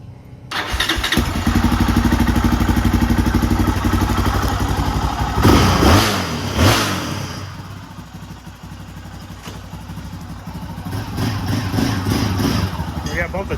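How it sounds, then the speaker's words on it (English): An engine on a race four-wheeler ATV, a cheap used machine, runs loud and rough with clattering and thumping, rises in a couple of sharp revs midway, then keeps idling unevenly while people talk nearby. "Rev her up, Myers."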